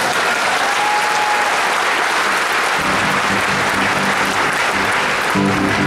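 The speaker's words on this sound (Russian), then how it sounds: "Тем более при таких аплодисментах." Concert audience applauds a singer on stage in Korolyov, a dense, loud, sustained wash of clapping from a large crowd, with some rhythmic unison clapping building toward the end.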